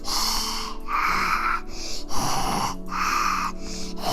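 A voice imitates a monster's heavy panting: a rhythmic series of loud, breathy, rasping inhales and exhales, close to the ear, with no words spoken.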